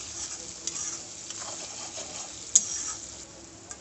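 Spice masala fries in hot oil with a soft, steady sizzle for a fish roe curry, stirred now and then with a light scrape and one sharp utensil click.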